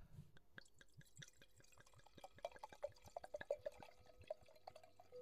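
Rosé wine pours into a glass in a quiet room, a close, soft trickle with a rapid run of small liquid drips and glugs that rises in pitch as the glass fills, no talking.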